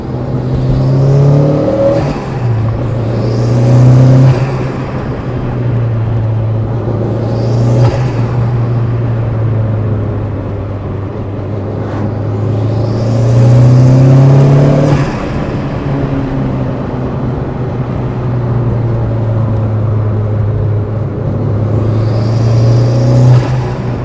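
Delta Futurista rally car engine on an Italian Alpine road, a loud steady droning hum that swells repeatedly as the car accelerates and revs through gears, with some whirring and rumble throughout.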